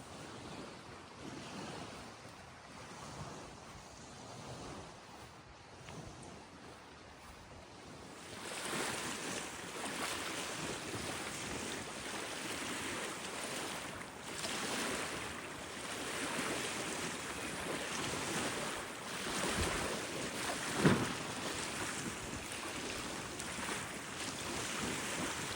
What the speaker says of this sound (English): So yeah, definitely windy now.